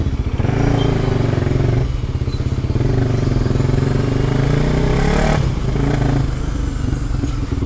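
A motorcycle taxi passes close by with a loud, steady engine drone and revving that dips briefly near two seconds and again past five seconds, with no one speaking.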